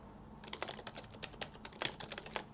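Rapid clicking keystrokes on a computer keyboard in an uneven run of taps, close and fairly quiet over a low steady hum, with no talking.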